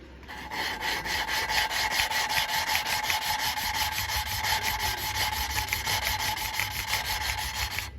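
Steady, gritty rubbing and grinding of a valve being lapped into its seat with a lapping tool and grit, with a fast back-and-forth scraping rhythm, close up and continuous throughout.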